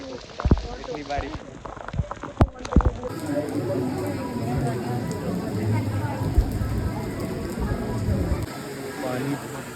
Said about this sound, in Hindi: बारिश तो स्लो होने का नाम ले नहीं रही।